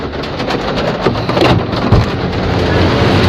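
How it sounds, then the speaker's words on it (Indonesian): Heavy rain pours down in a dense, loud, continuous roar, with low rumbles beneath the downpour. "gila hujannya gede banget"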